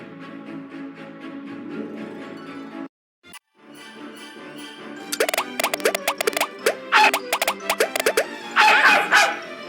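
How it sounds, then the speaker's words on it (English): A bubble-burping dog in a Nancy Drew game barks in a rapid series of sharp yips and woofs, close and loud, following a stretch of steady background music and a short silent gap. "capture that stupid bubble burping dog once and for all"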